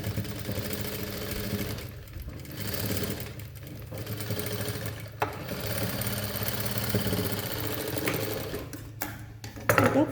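A sewing machine runs a double stitch along the neckline of a semi high neck blouse, humming steadily for most of the stretch with a few short pauses and a louder burst near the end.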